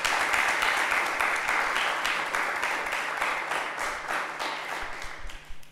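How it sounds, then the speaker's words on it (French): Studio audience applause for a TV quiz show contestant, a steady wash of many hands clapping at moderate loudness that slowly thins and fades out over several seconds. "On peut applaudir pour Léon."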